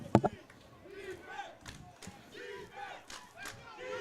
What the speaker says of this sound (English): Home crowd getting into it here